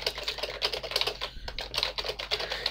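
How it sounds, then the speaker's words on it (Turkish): Text typed on a computer keyboard, close, rapid irregular key clicks in quick bursts with a brief pause midway, no talking. "Eğer bir yazı alanınız varsa bakın belli noktalarda yazılar yazıyorum."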